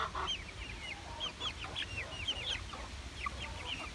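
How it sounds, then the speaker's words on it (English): Baby chicks and chickens cluck and peep in a coop, a quiet, close scatter of short chirps and clucks over a faint low background hum. "Well, the baby chicks seem like they're doing just fine."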